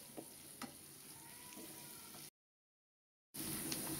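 Two medium chopped onions frying in oil in a pan, a soft continuous sizzle with a few light crackles, cut by a second of silence before the sizzling returns slightly louder.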